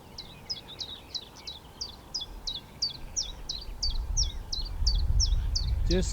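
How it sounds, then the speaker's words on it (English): A zitting cisticola in flight gives a long, evenly spaced series of sharp, high chirps, about three per second, over a low rumble that grows louder toward the end. "the sitting cisticola made a flyby, calling all the time while in flight over the area"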